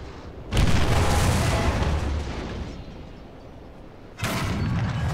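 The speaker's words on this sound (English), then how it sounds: "And that is a paralyzing, crippling shot" Two heavy tank cannon blasts in the War Thunder battle game: a loud, booming report early on that rumbles down slowly, then a second sharp, powerful shot near the end.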